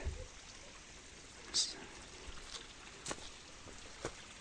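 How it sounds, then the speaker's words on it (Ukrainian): A small, litter-filled brook in Kremenets trickles softly and steadily at low volume, with a few brief louder splashes and drips standing out from the continuous faint flow. "І все-таки я Хоча б дам вам послухати, як дзюрчить цей струмок."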